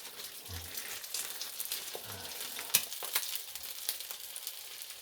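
Double sausage patties sizzle steadily in a pan on the stove, a continuous close crackle with scattered pops and one sharper snap, no voices.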